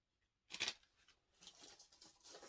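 Close, quiet metallic snips and rustling as small scissors are handled, with a brief clink followed by softer shuffling.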